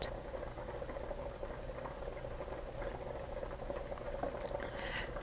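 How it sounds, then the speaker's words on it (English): Heavy cream simmers quietly in a pan, giving a soft, steady bubbling patter, with a few faint spoon scrapes and taps from stirring near the end. "our heavy cream started to simmer here. So I'm just kind of coming in with the spoon and stirring it."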